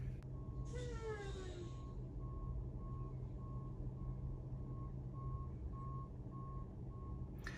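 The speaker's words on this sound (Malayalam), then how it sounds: "വണ്ടി ലൈൻ നേരെയാണോ നോക്കിയിട്ട് പുള്ളി വീണ്ടും ബാക്കപ്പ് ഇടാൻ പോവാണ്" A truck reversing during a driving test in Canada gives off evenly spaced backup beeps that continue steadily over a constant low engine rumble, with a brief hiss near the start.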